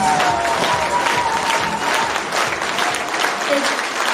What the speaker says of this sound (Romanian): vă rog să vă ridicați în picioare și vă rog să aplaudați